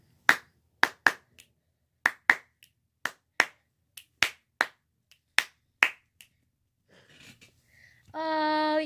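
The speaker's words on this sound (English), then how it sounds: "That's my clap." About a dozen sharp, close hand claps or snaps in an uneven rhythm, each a crisp isolated crack, followed by faint rustling and then a brief sustained tonal sound at the end.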